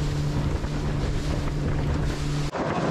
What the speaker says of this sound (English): The wind's come up a bit